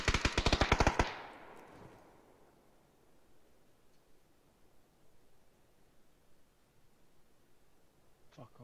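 A short burst of rapid automatic gunfire in a video game, loud and close for about a second, then fading into quiet background noise.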